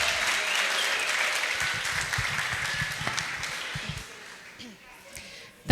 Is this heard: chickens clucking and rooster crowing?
no